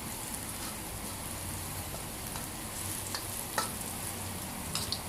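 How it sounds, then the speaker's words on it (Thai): Garlic stir-fries in a pan for a chicken heart and giblet stir-fry with fresh chilies, giving a steady close sizzle with a few faint utensil clicks and no talking. "ค่อยๆผัดไปเรื่อยนะครับ"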